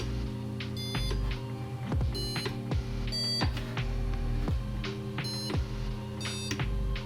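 An Arduino buzzer on a ROBO UNO+ board plays short beeping notes as buttons are pressed, a series of distinct tones at different pitches in an uneven rhythm, with clicks between them.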